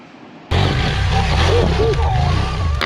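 A BMW GSA 1250 adventure motorcycle spins a donut on a dirt backcountry route. The engine suddenly roars up loud and close, holding a rough, wind-buffeted drone, while a voice talks over it.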